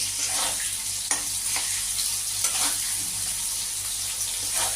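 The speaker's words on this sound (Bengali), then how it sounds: "আলুগুলো আর একটু ভাজা হবে এখনও আর একটু বাকি আছে" Potatoes fry in oil in a pan for a ridge gourd and fish curry, a steady close sizzle with occasional stirring scrapes and small pops throughout.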